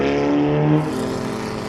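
Historic race car engine during a championship race, the driver feeding the throttle through a corner, a loud buzzing drone that shifts pitch partway through as the throttle changes, heard alone.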